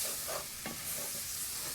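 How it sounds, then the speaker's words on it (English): Flour gravy for biscuits and gravy being stirred in a pan after liquid is added, a brief soft bubbling sizzle with one quick scrape of the spoon, quiet and close. "stir it around"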